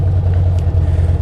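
A Harley motorcycle engine revs hard during drifting practice, a loud, steady, close low rumble held at high RPM throughout.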